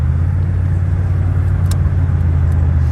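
Cabin of a 1994 GMC Sierra OBS pickup cruising on the road, a steady low engine and road rumble with a constant drone, loud and unbroken, no speech.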